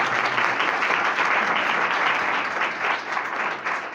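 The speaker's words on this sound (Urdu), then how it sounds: "بھائی کے لیے زوردار تالیاں بجا دیں۔" Church congregation applauding, a dense, continuous roar of many hands clapping that holds steady and loud, easing slightly near the close.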